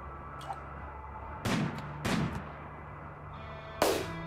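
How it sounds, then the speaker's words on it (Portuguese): Grenade blasts in the Rimworld colony game: a few sharp, fairly quiet bursts spaced about half a second apart, then a final louder crack, over a faint steady background with no voices. "pro Tony tacar uma granada nesta área"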